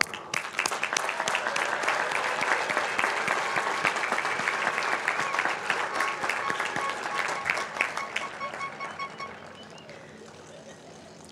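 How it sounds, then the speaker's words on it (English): Applause for graduates at a Class of 2023 university commencement ceremony, a large, sustained crowd roar of clapping with scattered cheers, steady for several seconds before tapering off near the end. "I think that we all should applaud our graduates because they're amazing and really strong."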